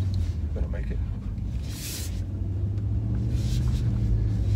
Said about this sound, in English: The four-wheel drive is kicking in.